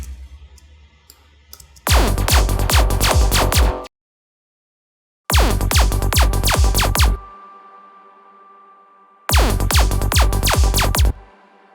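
Psytrance zap effects synthesized in the Vital synth: three loud bursts of rapid repeated zaps, each lasting about two seconds, separated by short gaps with faint tonal hum.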